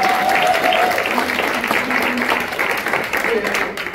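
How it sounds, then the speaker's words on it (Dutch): Steady applause from an audience at a poetry slam in a Rotterdam reading room fills the whole stretch, dense and even, with faint voices mixed underneath. "Geef even een applaus voor Mark"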